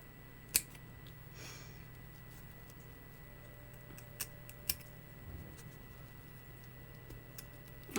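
Scissors snipping thread close to the end band of a hand-sewn fabric headband, a few sharp separate clicks spread over a quiet room with a steady low hum.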